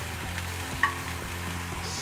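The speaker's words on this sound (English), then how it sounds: "Whilst this is sizzling away here" Onion, chilli and garlic sizzle and crackle steadily in a hot pan, a continuous frying hiss with a faint clink midway.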